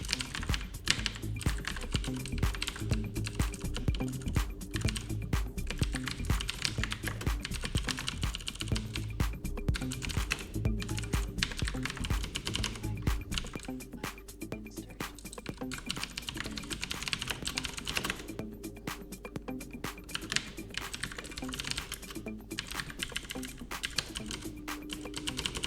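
Close, quick keystrokes rattle on a computer keyboard in a dense, uneven stream lasting the whole stretch, with brief pauses between bursts and a low hum underneath.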